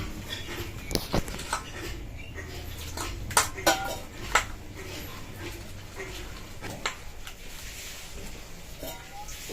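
Gram flour batter with turmeric, salt, red chilli powder and water being mixed in a bowl for stuffed ash gourd leaf fritters, with scattered clinks and scrapes of utensil against the bowl over a steady background hum, no talk.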